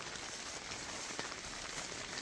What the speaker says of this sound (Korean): 오늘 비가 옵니다만은 이게 뭐 소나기선 같은데